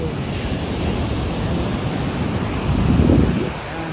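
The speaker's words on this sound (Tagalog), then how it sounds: "Ang laki ng alon." Big ocean waves churn at San Juan, La Union, making a steady rushing roar that swells toward the end as a larger wave breaks. Wind noise rumbles on the microphone throughout.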